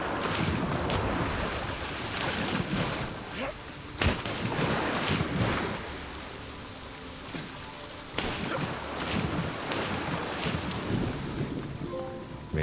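Steady roaring rush of a waterfall in the video game Assassin's Creed Shadows, a dense continuous wash of falling water that fills the scene, with brief louder bursts and faint talk underneath.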